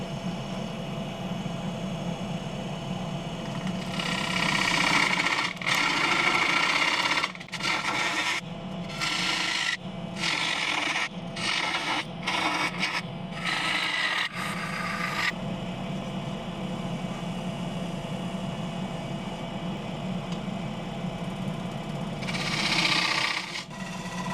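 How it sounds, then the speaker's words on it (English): A gouge cutting a holly chopping bowl spinning on a wood lathe, a continuous humming whir with rasping bursts as the tool touches the wood, broken by short gaps and stutters midway. "A touch of the gouge takes off the razor sharp corner."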